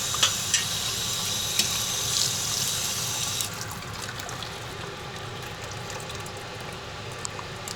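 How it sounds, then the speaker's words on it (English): Wild chives being rinsed under running tap water, a steady splashing rush over roughly the first three and a half seconds, then settling into quieter sink noise with a few small clinks. "I'm just going to quickly rinse these."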